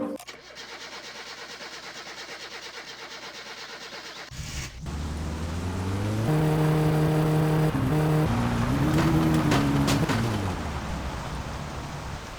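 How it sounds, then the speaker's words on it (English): In the video game My Summer Car, a steady background hum cuts off, then an engine fires up and revs unevenly in rising and falling bursts as a piston flies out, fairly close. "the noise you just heard, that's a piston flying out"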